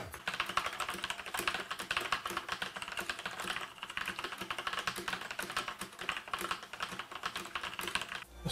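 Steady fast typing on a Sharkoon Skiller SGK3 metal-framed mechanical keyboard with red switches, a dense run of close, light clacks with no pauses and no voices.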